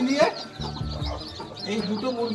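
Hens with a brood of newly hatched chicks cluck in short, close bursts over a couple of seconds, with a faint voice in the background.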